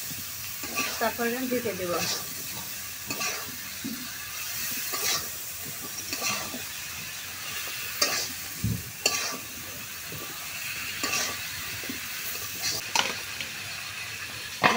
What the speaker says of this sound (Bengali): এখন তরকারিটা ঢেলে দেব। ভালোভাবে মিশিয়ে নিই